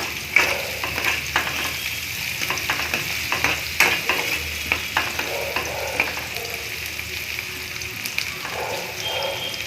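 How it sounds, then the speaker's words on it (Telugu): Onion and green chilli pieces fry in oil in a kadai for a chicken curry, giving a steady close sizzle with frequent scraping stir strokes throughout and no talking. "ఇప్పుడు ఆనియన్, పచ్చిమిర్చి ముక్కలను వేసి కొంచెం లైట్గా బ్రౌన్ కలర్ వచ్చే వరకు ఫ్రై చేసుకోవాలి."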